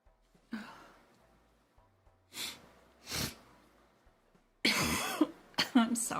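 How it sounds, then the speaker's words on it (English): Several sharp coughs, one around the middle and a loud cluster near the end, close to the mic during a live online Q&A session, with a faint low hum in between. "I'm sorry, I'm coughing in y'all's ear."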